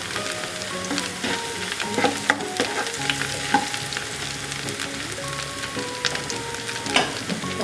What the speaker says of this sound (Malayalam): തീ ഒരു ചെറിയ ലോ ഫ്ലെയിമിൽ ഇട്ടിട്ട് വേണം നമുക്ക് ഇഞ്ചി വേവിച്ചെടുക്കാൻ.